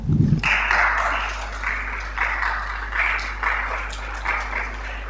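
Applause from a small audience welcoming a doctor at a talk on HIV testing, scattered clapping that comes in uneven bursts over a steady low electrical hum, fairly near and moderately loud.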